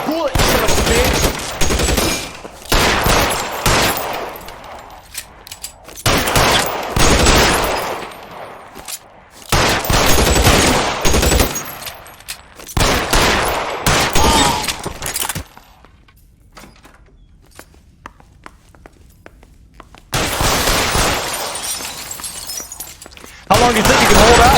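A shootout in the video game L.A. Noire, with loud bursts of rapid gunfire and crashing, shattering impacts in clustered volleys separated by short quiet gaps, close and intense.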